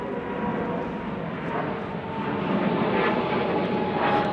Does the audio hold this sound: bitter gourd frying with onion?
no